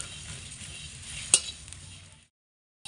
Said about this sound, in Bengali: তো এখানে আমি হালকা আঁচে এগুলোকে একটু 2 মিনিট মতো নাড়াচাড়া করে ভেজে নিচ্ছি